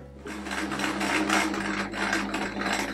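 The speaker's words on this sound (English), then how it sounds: "I'm going to now start my stitching." A sewing machine stitches a quilt patch with blue thread, running in a fast continuous mechanical whir and rattle at close range, its motor pitch shifting slightly as the stitching goes on, with no talking.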